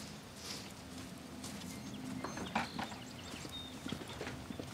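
Hooves of horses walking in the countryside clip-clop in a soft, irregular rhythm, faint and close, with a few bird calls in the background.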